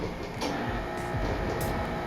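A high-speed laboratory centrifuge running, a steady dense mechanical whir with low rumbling pulses and faint high ticks, loud and close, with no talk.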